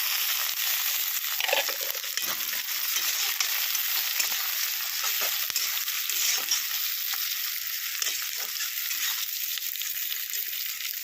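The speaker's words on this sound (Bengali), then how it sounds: "পেঁয়াজটা লাল লাল করে ভেজে নেব এবার টমেটোটা দিয়ে দেবো" Constant hissing sizzle of onion and tomato frying in a pan, with crackly bursts and scraping stirs throughout, close and steady.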